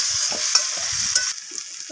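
Chopped onions sizzle loudly in a hot pan while a utensil stirs them, the crackle dropping sharply partway through, with soft scraping knocks.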